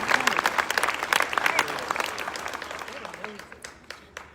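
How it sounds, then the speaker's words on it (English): Audience at a Williamson County Families launch event applauding, dense sustained clapping near and loud, with a voice briefly heard over it, thinning out over the last second. "Stand up and clap."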